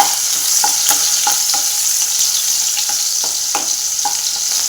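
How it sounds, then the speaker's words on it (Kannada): Crushed garlic sizzles steadily in hot oil over a low gas flame, close by, with regular light scraping clicks from stirring and no voices. "ನೋಡಿ, ಹಾಕ್ಕೊಂಡಿದ್ದೀನಿ ಬೆಳ್ಳುಳ್ಳಿ. ಅದೇನಪ್ಪ ಅಂದರೆ ಚೆನ್ನಾಗಿ ಒಂದು ಸ್ವಲ್ಪ ಫ್ರೈ ಆಗಬೇಕು."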